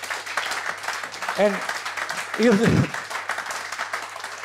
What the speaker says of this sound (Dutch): Applaus voor de...